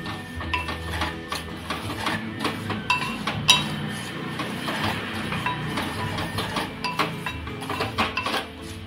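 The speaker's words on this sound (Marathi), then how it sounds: "हे आता आपल्याला परतून घ्यायचं आहे।" Salted raw mango pieces sautéed in a pan for Maharashtrian mango pickle, with a spoon scraping and clinking against the metal in an irregular rhythm over a soft, continuous frying hiss.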